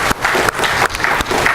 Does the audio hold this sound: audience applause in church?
yes